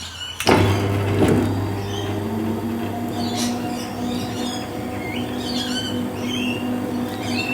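A manual honey extractor converted to electric drive runs steadily, its motor giving a continuous tonal hum with a faint whine and scattered light rattles after a sharp start-up clunk, close and alone.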